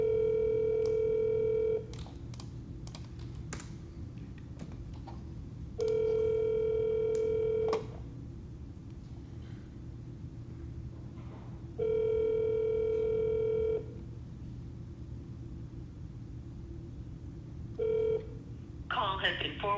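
A telephone call is placed with dial tones and ringback: three long tone bursts repeat with quiet gaps, short beeps between them and a brief dialing burst at the end.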